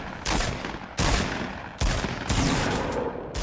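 Repeated bursts of gunfire in Fortnite aimed at the player, three or four sharp loud volleys in quick succession, each starting abruptly and ringing out briefly, with no talking.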